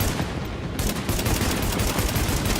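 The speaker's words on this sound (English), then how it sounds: "I can just burst fire my way to victory" Burst-fire rifle shots from The Division rattle out in dense, loud overlapping volleys, forming an unbroken barrage of gunfire close by.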